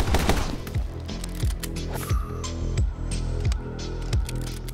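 Gunfire fills a session of the video game My Friend Pedro, with rapid repeated shots in quick bursts over a low game hum and thumping background.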